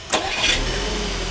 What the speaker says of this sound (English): the car will start automatically